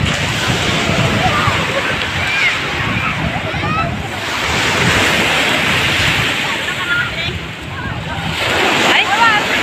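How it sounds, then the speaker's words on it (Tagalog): Loud surf rolling and breaking at Bocana Beach in Puentes, with gusting wind buffeting the microphone; a continuous washing roar that swells and recedes, with faint voices underneath. "So karon guys, nangaligo din mi og kuan dagat. So nami diri karon sa Bocana Beach"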